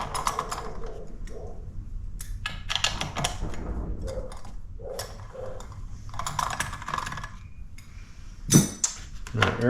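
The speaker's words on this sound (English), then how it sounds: "I'm going to start taking these two nuts off here" A wrench works two nuts loose on a Poulan 2150 chainsaw during carburetor removal, making irregular light metallic clicks, clinks and ratchet-like taps in short bursts separated by quiet gaps.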